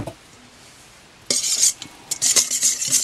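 Egg yolks for a cheesecake flan being whisked in a bowl, a quiet pause followed by bursts of brisk, close scraping and clinking strokes.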